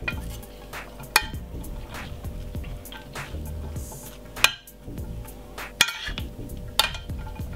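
Brown rice salad with olive oil being mixed in a bowl: soft, continuous stirring and shuffling broken by several sharp clinks of a utensil against the dish, with no voices.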